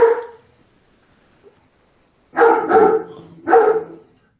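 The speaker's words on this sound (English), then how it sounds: "we have two dogs, Cooper and Maggie. You're just hearing the one." A single dog barks close by, one bark, a pause, then a quick pair and another bark, loud and sharp in a quiet room.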